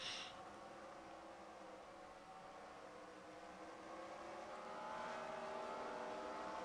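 Stock cars race side by side on the Sonoma road course in an ARCS racing video game, their engines droning in a steady, continuous layered whine that swells slightly near the end.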